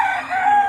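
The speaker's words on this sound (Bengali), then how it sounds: "মুরগি দেখছে এই দিকটায়" A village chicken gives a short, close clucking call, brief and alone in a rural setting.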